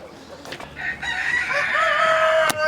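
A hen gives a single drawn-out, rising call up close, clear and fairly loud, with a couple of brief knocks around it.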